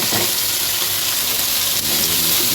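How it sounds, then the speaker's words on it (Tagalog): Softened beef hitting a pan of sautéing garlic and onion, a loud steady sizzle and frying hiss filling the whole moment, close and unbroken with no talking. "At isusunod na po natin yung ating pinalambot na karning baka."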